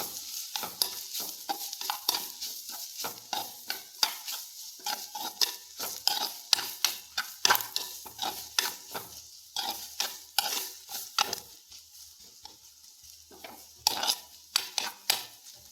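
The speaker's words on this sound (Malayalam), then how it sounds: "തേങ്ങ ഇട്ട് കൊടുക്കാം ഇളക്കി കൊടുക്കാം" Grated coconut being stirred into carrot thoran in a pan, with a steady run of scraping spoon strokes against the metal and a soft sizzle underneath, close and fairly loud.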